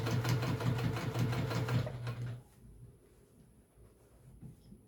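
A sewing machine topstitches a vintage-style apron in a loud, fast run of stitching that stops about halfway through, leaving quiet room tone.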